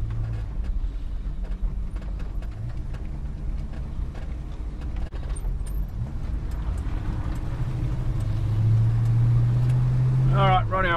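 A car pulls out of a driveway and drives off, a steady low engine rumble building slightly toward the end while someone talks over it.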